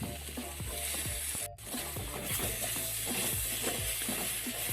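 Onions and tomato sauté in a pan with a steady, close sizzle, broken by a regular scrape of stirring. The sizzle drops out for a moment partway through and then comes back.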